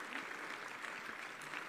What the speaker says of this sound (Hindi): उनका भी तालियां बजा के स्वागत कीजिए।